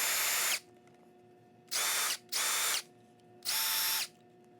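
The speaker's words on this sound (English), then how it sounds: "So it's an M18 impact drill" A Milwaukee M18 impact driver, model 2850-21, runs in four short bursts of high-pitched whirring, close and loud, separated by brief pauses.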